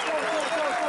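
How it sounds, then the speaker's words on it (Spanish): A rap battle audience claps in a steady, dense wash of applause, with a thin whistle riding over the crowd noise throughout the short stretch. "¡Aplausos, Río Dinamo!"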